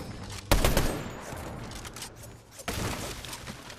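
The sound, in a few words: gunshots in the video game Fortnite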